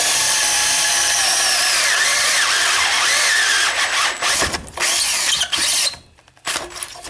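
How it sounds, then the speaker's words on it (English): A power drill with a 1/4 inch bit whines steadily at high speed for several seconds, close up, drilling into a brake line, then cuts out briefly and bursts back on. "and just drill it."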